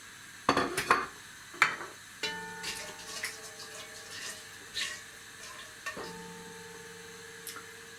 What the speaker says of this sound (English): You fry the whole spices until nice fragrance comes out.